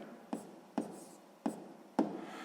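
Pen strokes on paper while a math exercise is written out, four distinct scratchy taps or short strokes spaced unevenly, close and quiet, with no voice present.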